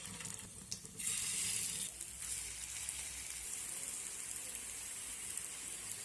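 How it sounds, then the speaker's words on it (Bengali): Pumpkin flower and egg fritters fry in a small amount of oil with a faint, steady hiss, briefly louder near the start, then settling into a soft continuous sizzle with no talking. "একই রকমভাবে আমি বাকি বড়া ভাজাগুলো ভেজে নেব।"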